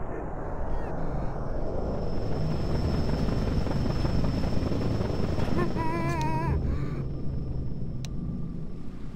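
Helicopter in the Counter-Strike Source zombie escape map Icecap, a steady loud rotor rumble and whine running throughout, with brief electronic game sounds near the end.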